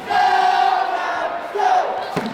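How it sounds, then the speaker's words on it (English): A crowd at a Halloween women's volleyball match in College Park Center, UTA against Stephen F. Austin, chants together in sustained, loud, voiced calls that break off briefly and then resume. "Cheering, chanting, and costumes filled College Park Center"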